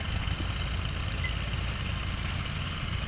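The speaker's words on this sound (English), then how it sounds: "this is a nicely restored tractor that he's pulling the little people mover with" A restored Super M tractor pulling a people mover in a parade runs with a steady, loud engine drone and low rumble, an even running note with a faint knock, close by and with no talking.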